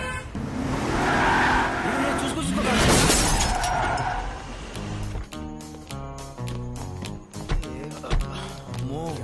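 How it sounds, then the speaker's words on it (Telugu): Car in a Telugu comedy film scene skids with a long tire screech and crashes, then a harmonic musical passage with sharp hits follows, with voices heard over it. "రే అర్జున్, ఎవరితో కారు గుద్దేశా?"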